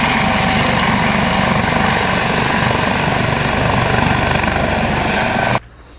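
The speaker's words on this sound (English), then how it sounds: "or a helicopter" A helicopter flies close by in the Japanese countryside, its loud, continuous rotor chop and engine drone holding steady before cutting off abruptly near the end.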